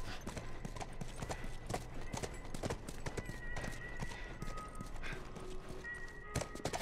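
Horse hooves clip-clop steadily in The Last of Us Remastered, in a university area, as a brisk, continuous patter of hoofbeats over ambient game sound.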